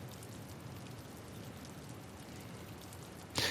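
Steady rain falling in the video game Witch on the Holy Night, a dense even hiss throughout, ending with a brief louder burst.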